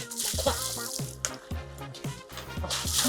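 Water runs and splashes steadily as it is filtered and poured at an outdoor jungle survival shelter, a close, continuous trickling stream with shifting gurgles.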